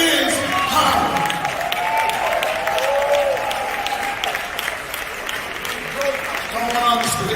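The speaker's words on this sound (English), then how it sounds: "Let's give them all a round of applause because this is power." A crowd claps at a hip hop alliance agreement signing, applause spreading across the room under cheering and raised voices throughout.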